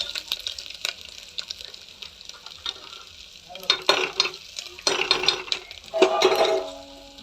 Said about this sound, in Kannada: ನೋಡಿ ಫ್ರೈ ಆಗ್ತಾ ಇದೆ.